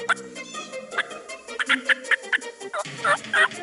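An Eastern wild turkey tom in an open field gobbles repeatedly, a series of rapid, rattling calls in quick bursts that come through clearly, with no talking.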